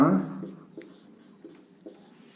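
Marker or pen writing out the solution to a linear equations word problem about pencil and pen prices, short scratchy strokes at a steady pace following a brief burst of voice at the start, close and fairly quiet.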